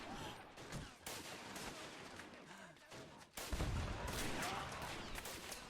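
A WW1 video game battle with French, Austrian and German troops around a fort: dense, continuous gunfire and crackling volleys, with heavier booming grenade blasts, one hitting hard midway.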